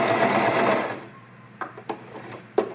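A sewing machine runs a quick burst of stitches through a fabric chair pouch, a dense whirring hum that stops abruptly, followed by faint handling clicks and taps.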